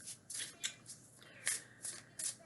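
A deck of cards is shuffled by hand, giving a series of quiet, crisp riffling bursts in an uneven rhythm, each a short papery flutter with small pauses between.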